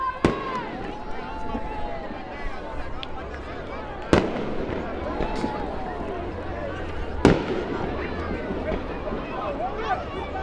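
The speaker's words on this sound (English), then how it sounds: "Fireworks in a nearby neighborhood. That's what you guys are hearing in the background." Fireworks going off in a nearby neighborhood during a high school football game, with two sharp loud bangs and scattered crackles in the background under a broadcaster's running commentary and crowd noise.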